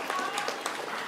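Children applaud during an Indonesian school competition, a brief burst of mixed clapping and crowd noise heard under a host's speech.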